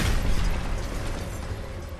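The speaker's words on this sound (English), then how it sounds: "Incoming frag!" A frag grenade detonates in the Gears of War video game, a loud, dense low-frequency blast that rumbles and slowly decays across two seconds with no clear gaps.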